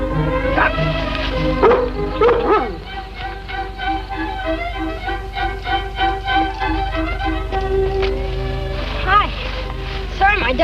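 A dog, a collie, barks and yips in a rural household setting, the bursts scattered across the clip over a background music score.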